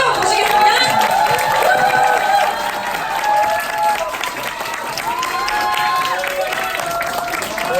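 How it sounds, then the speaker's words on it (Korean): Audience applause welcoming a company president to the stage at a Korean group business meeting, dense continuous clapping with crowd murmur and tonal music running throughout, loud and steady for the whole stretch. "우리 권민서 사장님 큰 박수로 모시겠습니다"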